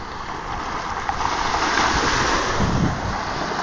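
Ocean waves rolling in at a bay with the tide in, a steady broadband wash of surf mixed with wind buffeting the microphone, loud and continuous with no voices.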